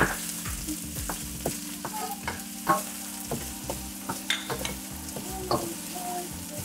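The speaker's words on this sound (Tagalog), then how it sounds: "ngayon naman magigisa na tayo ng onion and garlic" Onion and garlic sautéing in a pan for pork belly afritada, a steady sizzle broken by repeated clacks and scrapes of a spoon stirring against the pan, close and fairly loud, with no talk.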